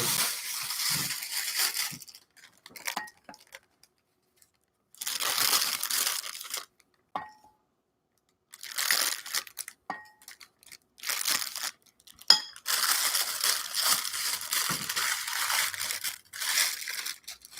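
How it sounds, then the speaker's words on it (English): Plastic piping bag rustles and crinkles in repeated bursts separated by quiet pauses, close and fairly loud, with no talking. "I'm going to put a little bit in a bag. Sorry if it makes noise."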